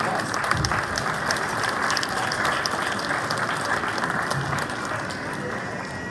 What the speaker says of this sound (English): That would be a round of applause.